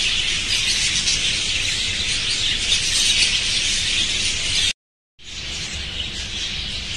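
A flock of ornamental Turkish-breed birds calls in a dense, continuous chorus of high chirps and squeaks, loud and close, with a brief break of silence near the end.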